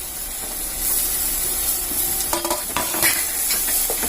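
Chopped tomato drops into frying masala for pappadam curry, setting off a steady sizzle and hiss with a few stirring scrapes, close and moderately loud.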